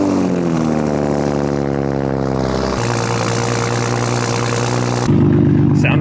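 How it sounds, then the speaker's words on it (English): A Toyota MK5 Supra engine starts and settles into a loud, steady idle, its deep drone shifting pitch twice as revs drop and level off, with no talking. "What kind of YouTube video would this be if we didn't get a startup of the"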